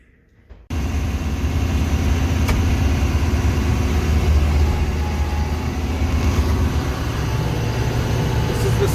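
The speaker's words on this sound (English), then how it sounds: "This is the 7th day now with the snow blower down. Or not down, blowing snow." Snow blower blowing snow, its engine starting abruptly after a quiet moment and then running as a loud, steady, close mechanical roar to the end.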